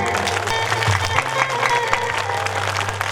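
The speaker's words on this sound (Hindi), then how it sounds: "थोड़ा हाथ उठाइएगा, ताली बजाइए।" Audience at a Bhojpuri Ram Katha religious discourse claps together, a dense sustained patter of hands close by, with a steady low musical drone underneath and some crowd murmur.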